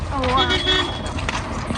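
Horses being led along a footpath on a pilgrimage walk, their hooves clip-clopping in a loose rhythm close by, mixed with people talking and calling over the steps.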